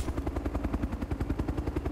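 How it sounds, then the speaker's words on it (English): Rapid, steady rotor chop from a helicopter in a video game, loud and close with a pulsing beat throughout and no talk over it. "I'm going to destroy my helicopter."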